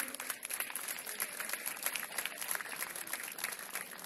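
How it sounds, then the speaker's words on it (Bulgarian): Outdoor crowd at a football match gathering in Shumen applauds the municipality, a steady patter of many hands clapping at a moderate distance, fairly faint and continuous throughout. "Аплодисменти за община Шумен."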